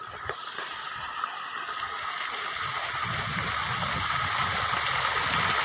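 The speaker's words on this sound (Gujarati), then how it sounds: "નજારો જોઈ શકો છો કેવું મસ્તીનું પાણી જાય છે નીચની અંદર" Water runs through a farm irrigation channel among fruit trees, a soft steady gurgling flow, faint and continuous, with a low rustle throughout.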